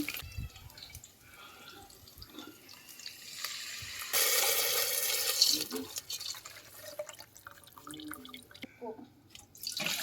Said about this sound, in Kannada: ಇವಾಗ ಮಜ್ಜಿಗೆ ಹಾಕೊಂಬಿಡ್ತೀನಿ